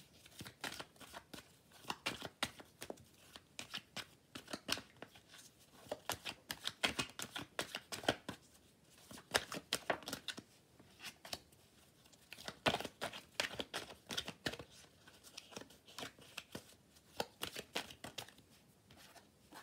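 A deck of tarot cards is shuffled by hand in rapid repeated riffles and flicks, close and crisp, with occasional card draws between bursts and no talking.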